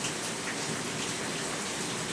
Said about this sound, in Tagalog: Ngayon tuloy na babiyahe kami, umulan tuloy.